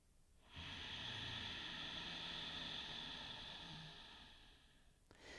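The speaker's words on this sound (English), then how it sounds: "inhaling and exhaling through the nostrils. So it'll sound a little bit more like ocean waves" Slow ocean breathing through the nostrils with a constricted throat, one long breathy hiss held for several seconds, close and alone, like soft waves.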